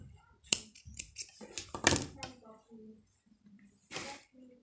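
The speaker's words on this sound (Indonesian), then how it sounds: "kita gunting" Scissors snip crochet yarn at the end of a slip stitch row on a hexagon granny square bag, giving a few sharp close cuts amid soft handling noise and quiet speech.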